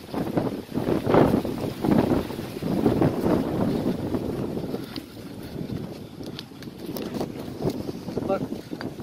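Strong outdoor wind buffets the microphone in continuous loud rumbling gusts at an open site strewn with stones and tile fragments, steady throughout with no clear speech on top.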